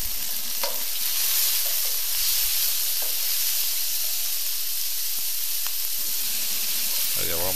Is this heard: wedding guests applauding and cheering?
no